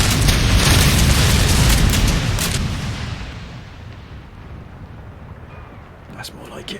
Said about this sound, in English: That's a good salvo.